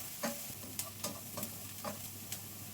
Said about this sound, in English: First, I'm going to fry the onions about 5 to 7 minutes